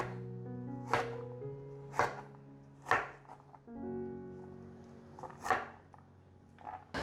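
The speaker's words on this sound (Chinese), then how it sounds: "把黄节瓜切成条状， 切小丁。" A knife on a board chops yellow zucchini into small dice in several distinct, spaced strikes, each a sharp thud about a second apart, over a soft background of sustained tonal hum.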